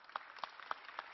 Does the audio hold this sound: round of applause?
yes